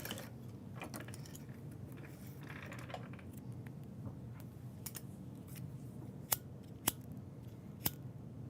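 Scissors snip thread ends while bags are sewn, a few sharp, distinct clicks near the end standing out over a faint background hum.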